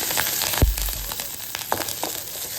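Grated ginger and green chilies hit hot oil with a brief thump, then crackle and sizzle close by, a few sharp pops rising over the hiss.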